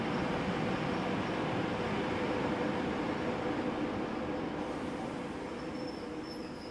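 Train rolling past a long line of tanker cars mostly loaded with crude oil, a steady broadband rumble and hiss that stays close and loud throughout, easing slightly toward the end, with no voices.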